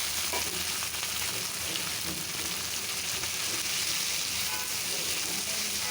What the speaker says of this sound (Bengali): এটা পেঁয়াজটা ভাজা হয়ে গেছে, পেঁয়াজ রসুন আর শুকনো মরিচ দিয়ে